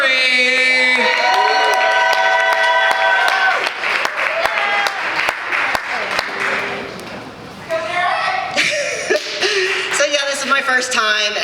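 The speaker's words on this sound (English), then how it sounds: "Start clapping, get excited, get hyped up for Derek Zakari." An audience at a talent show in a brewery claps and cheers, a steady crowd roar with whoops and bright sustained tones layered over it, filling the whole stretch.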